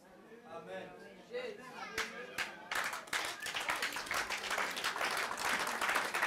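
Church congregation clapping, beginning with a few scattered claps and murmuring voices and swelling into steady, fairly faint applause from many hands.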